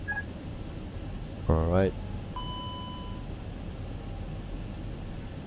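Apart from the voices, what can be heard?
cockpit alarms in the Fenix A320 in Microsoft Flight Simulator 2020 video game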